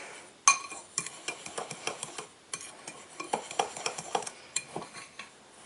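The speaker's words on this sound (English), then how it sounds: "I'm gonna use a fork to just kind of get this all evenly mixed." A fork scrapes and clinks rapidly against a bowl, evenly mixing cinnamon roll ingredients in a steady, close run of sharp taps and scrapes with no talking.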